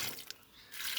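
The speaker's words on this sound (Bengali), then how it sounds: "পানি দিব" Water splashes and trickles onto eggplant plants in a home garden during morning watering, a short close wash of liquid that fades midway and then swells again.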